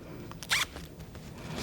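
A zipper on a small handmade fabric zipper case gives one short, close rasp of its pull sliding along the teeth, with a quiet room all around it.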